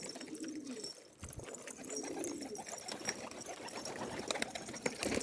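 Young İstanbullu pigeons give soft, faint cooing calls, a couple of low swelling coos over light rustling and shuffling in the loft.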